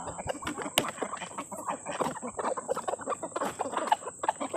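Hens clucking and squawking close by in a coop, a busy cluster of short overlapping calls with sharp bursts, the flock sounding agitated.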